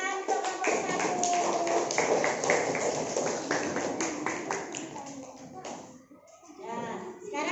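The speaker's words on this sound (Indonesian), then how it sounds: "Ya, ya tepuk tangan untuk kelompok 1" Primary schoolchildren in an Indonesian classroom clap together for a group of classmates, giving a busy patter of small hands mixed with young voices that fades briefly near the end before picking up again.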